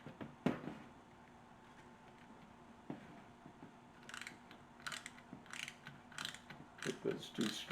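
A small Torx driver turns screws while a Whirlpool dishwasher rack adjuster is replaced: quiet ratcheting clicks and short gritty bursts of turning in a still room, with one sharper knock near the start.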